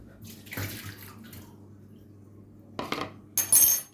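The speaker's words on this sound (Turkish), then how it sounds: "Az önce kaynatmış olduğum şuradaki kaynar suyu. Hatta bunu dökeyim." Freshly boiled water pours out in short splashy bursts, one early and a stronger, louder stream near the end, with quiet pauses between, while a dental night guard is being shaped.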